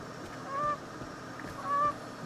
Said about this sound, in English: Apparently meant to play an animation for the geese here.